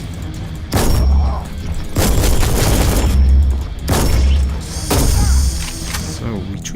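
Grenade explosions in the video game Warhammer 40,000: Inquisitor - Martyr come as four loud, booming blasts spaced about a second apart. Each blast has a heavy low rumble and a crackling tail, and a brief voice is heard at the start.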